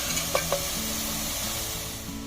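Radish and carrot sautéing for vegetable sambar, a soft steady sizzle with a couple of brief stirring clinks near the start, low and continuous with no talking.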